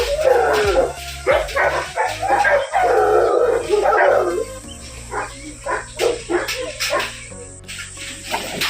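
Grey Cane Corso, a large mastiff breed, giving close, loud deep barks mixed with howling and whimpering yips in uneven bursts, with some background noise.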